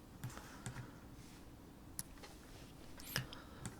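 Keys on a computer keyboard pressed in a sparse, irregular handful of soft clicks, close and quiet, with a few spaced taps and no voices.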